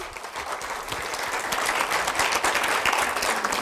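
A crowd claps together at a team-building event, producing loud, dense, sustained applause that swells slightly and holds steady from start to finish.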